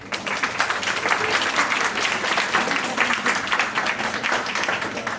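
An audience at a student talent contest applauds a jury member, steady dense clapping from many hands at moderate distance, with no voices standing out.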